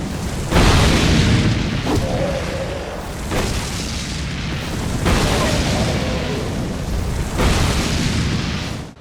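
Spell hits explode in the Dark Souls 2 video game, a series of loud, deep booming blasts roughly every one and a half seconds, each followed by a rumbling decay.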